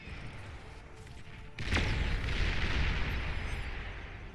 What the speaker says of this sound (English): We see this missile land.